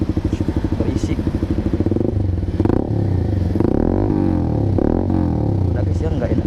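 Honda Sonic 150R motorcycle fitted with a Proliner TR1R short exhaust, idling with a rapid loud pulsing beat and then giving several short revs near a busy road, with someone talking over it.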